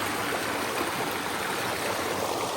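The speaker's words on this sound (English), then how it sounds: "So it looks like there's a lot of water here going over." A large volume of stream water pours over a drop outdoors near a small bridge, a steady, dense rushing hiss that fills the whole clip without pause or talk.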